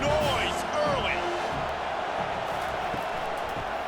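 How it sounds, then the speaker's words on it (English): Stadium crowd roaring steadily through a football game in EA College Football 25, a broad continuous wash of cheering, with a commentator speaking over it. "This crowd bringing the energy and noise early."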